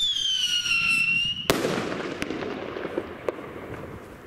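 A Cafferata Mad Dog Thunder Rocket firework goes up with a wavering whistle, then bursts in one loud, sharp bang. A crackling decay follows, with a couple of smaller pops, all close and outdoors.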